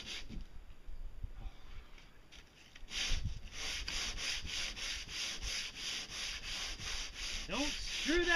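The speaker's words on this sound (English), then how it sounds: "Oh, sanding." Steady rhythmic sanding of a boat hull, a rasping back-and-forth scrape repeating evenly, close by, starting after a quieter moment.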